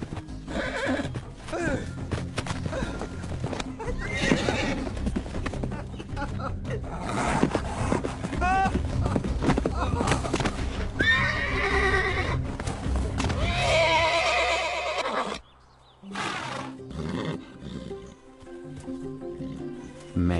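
A great mustang in a video game whinnies loudly several times over hoofbeats and game music, with a brief drop to near silence before the sounds resume.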